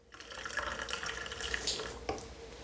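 Blended lemon water is poured from a container into a cup, a continuous close splashing trickle with a brief drip or clink near the end.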